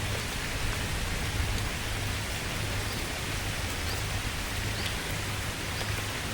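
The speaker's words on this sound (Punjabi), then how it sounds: "ਬਹੁਤ ਜ਼ਿਆਦਾ ਬਾਰਿਸ਼ ਹੋ ਰਹੀ ਹੈ ਬਹੁਤ ਜ਼ਿਆਦਾ" Steady, dense rainfall pours down heavily with a constant hiss, loud and close, with no voices and no letup.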